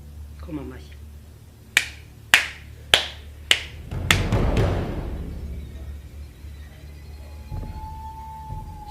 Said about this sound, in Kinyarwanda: Koma amashyi.